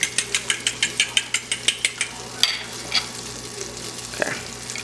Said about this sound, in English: Eggs going in. Mix it up again a little bit.